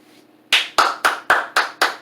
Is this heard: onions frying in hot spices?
no